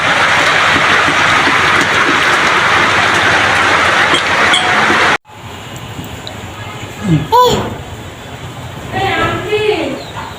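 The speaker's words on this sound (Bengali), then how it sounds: "অনেক বৃষ্টি, বাতাসের জন্য থাকা যাচ্ছে না।" Heavy rain driven by strong wind roars loud and steady as a dense wash of noise for about five seconds. It then cuts off abruptly to a quieter room where someone speaks.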